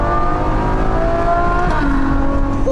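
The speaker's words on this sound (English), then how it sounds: "let's just pop the window down just for a moment, drop some gears" Mercedes SLS AMG engine heard with the window down, a loud, steady, throaty drone with a pitch drop around a downshift and rising harmonics near the end, no talking over it.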